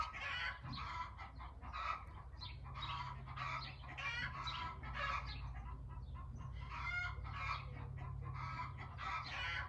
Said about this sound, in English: Our chickens are a rowdy bunch this morning.